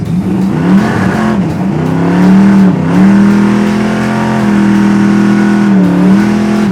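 A 1971 Chevelle SS engine runs loud and close on a cold 15-degree winter day, settling into a steady idle with several brief dips and swells in pitch as it is blipped and revved.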